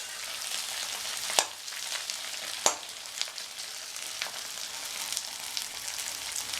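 Potatoes are stirred into rice in a hot pan, a soft steady sizzle broken by a few sharp clicks of the spoon against the pan, close and alone.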